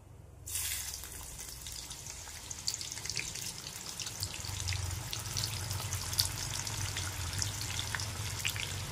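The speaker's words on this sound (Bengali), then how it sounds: "এই দেখো তেলটা গরম হয়ে গেছে, এর মধ্যে দিয়ে দেবো আমাদের সেই কেটে রাখা পেঁয়াজ" Sliced onions hit hot oil for a prawn biryani, bursting into a loud, steady sizzle that holds strongly throughout with crackling spatter, close up and with no talking.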